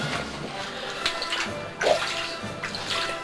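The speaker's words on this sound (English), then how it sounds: "We've reached water." Water moving inside a limestone cave at Seneca Caverns, heard as soft splashing and trickling with a few louder splashes, close by, with faint voices in the background.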